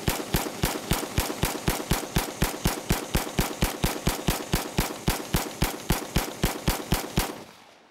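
A Stag Arms Model 8 piston-driven rifle fires a full magazine outdoors in a rapid, even series of about two dozen sharp, loud shots, close by, ending abruptly.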